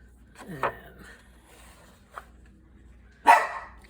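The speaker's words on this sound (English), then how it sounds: "Sorry for my dog barking." A dog barking indoors, two or three short barks spread across a few seconds, the last one loudest, with quiet room noise between.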